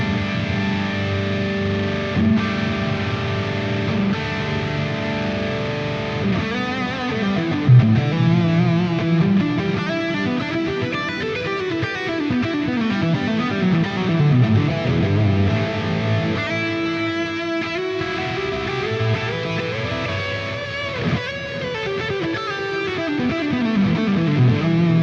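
Electric guitar with a compressed, distorted 1980s tone played through a Fractal FM9 or Axe-Fx 3 with circular delay and large plate reverb, melodic sustained lines with swelling echoes, played alone with no talking.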